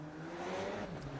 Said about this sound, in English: Bryce Meredith out there in the number 171 Corvette.